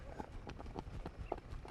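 Hooves clip-clop in a quick, uneven rhythm as a rider sidles a horse out near cattle, with scattered sharp strikes over low outdoor rumble.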